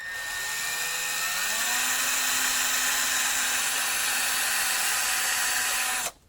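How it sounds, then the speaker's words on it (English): A steady, loud drill whine continues as a slightly larger bit bores out the pin holding the handle on a hot water relief valve, rising briefly in pitch before holding constant and cutting off abruptly. "now we're going to continue to drill this pin out that holds the handle on"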